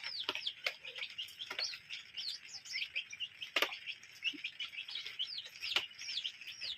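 Chicken chicks on a farm chirp in a busy, continuous stream of high peeps, fairly close, with a few sharper louder calls standing out; no talking.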